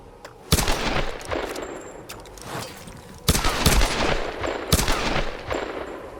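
Gunfire in the video game Tomb Raider during an arena fight: sharp close shots and quick automatic bursts in several loud clusters, with rattling reverberation between them and no speech.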